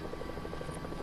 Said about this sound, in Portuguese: Tem cara vindo de helicóptero aí